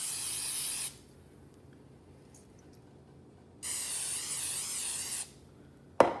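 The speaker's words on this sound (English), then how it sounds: "I'm going to spray this in there." Cooking spray hissing from an aerosol can onto a hot George Foreman grill with a ceramic plate, two steady bursts, one about a second and one a second and a half, with quiet between and a sharp knock at the end.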